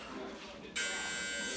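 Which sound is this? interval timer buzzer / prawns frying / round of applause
interval timer buzzer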